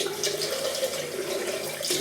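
Water runs steadily from a tap into a tub of shaving soap, a continuous close splashing hiss that lasts the whole two seconds.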